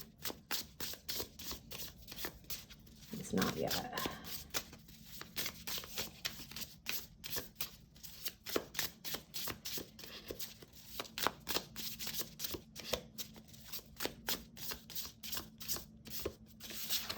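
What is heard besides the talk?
shuffling tarot cards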